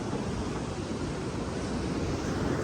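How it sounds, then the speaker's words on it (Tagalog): High surf breaking at a beach in Palawan, a steady broadband roar of waves with wind noise on the microphone, loud and continuous with no distinct breaks. "Taas ng alon ngayon, no?"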